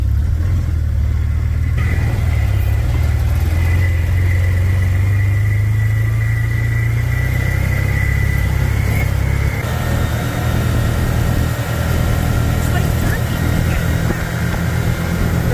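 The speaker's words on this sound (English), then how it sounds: "to go for a quad ride" A quad ATV engine runs in a home driveway before a ride, idling with a steady rumble and rising into revs partway through, close and loud throughout.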